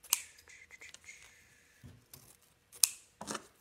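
Scissors trim lengths of ribbon for an autumn porch sign in a few sharp, close snips separated by quiet pauses, with light handling rustles between cuts.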